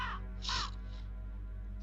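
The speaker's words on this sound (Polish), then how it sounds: "pomóż mi odgonić te przeklęte ptaszyska. Dręczą mnie bez końca." Crows caw in the dark adventure game Tormentum: Dark Sorrow, two harsh calls close together near the start followed by a fainter third, over a low steady hum.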